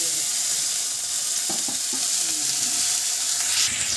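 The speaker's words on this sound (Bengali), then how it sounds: "আমার আদা আর কাঁচা লঙ্কা একদম দেখুন ভাজা ভাজা হয়ে গেছে" Loud, continuous sizzling of ginger and green chilies frying in a pan, with a few clinks of stirring and a hiss as water hits the hot oil.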